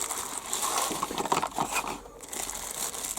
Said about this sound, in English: So let's have the packaging off. Little plastic bag.